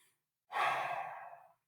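A single long, breathy sigh-like breath taken by a person, heard close and alone after a moment of silence, lasting about a second and gradually fading.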